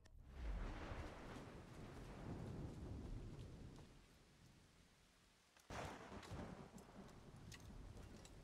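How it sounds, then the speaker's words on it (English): Heavy rain in Assassin's Creed 3 Remastered pours steadily with a deep rumble of thunder at the start, easing slightly before surging again. "I would like it if it stopped raining."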